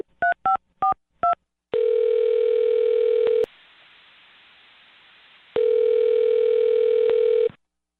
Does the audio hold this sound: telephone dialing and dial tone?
yes